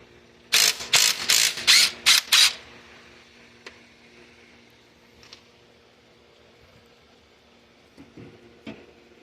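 A ratchet with a 17 mm socket removes the pulley on a Honda engine during a head gasket job, giving six quick, loud ratcheting bursts up close, then faint clicks and handling sounds.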